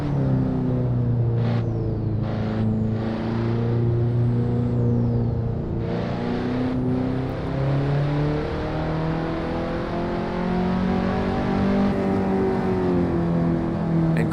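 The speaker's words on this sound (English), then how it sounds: "this car is the KTM Expo. I believe it's a straight four-cylinder engine" A light KTM X-Bow race car with a turbocharged straight four-cylinder of about 300 horsepower in Assetto Corsa, engine droning and rising and falling in pitch through gear changes, with several sharp shift blips, steady and alone.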